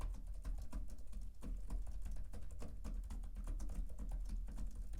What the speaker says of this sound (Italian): Adesso prendiamo la tastiera, proviamo a digitare senza parlare.